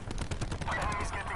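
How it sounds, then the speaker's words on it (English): Rapid gunfire in Call of Duty Black Ops 4 multiplayer, a dense rattle of automatic shots lasting a little over a second and blending into the busy game mix. "Enemies getting shots off."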